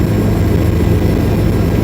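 A helicopter on the Kedarnath pilgrimage route, flying over the Mandakini river valley, heard from inside the cabin as a steady loud rotor and engine drone with a low, throbbing beat, filling the whole stretch.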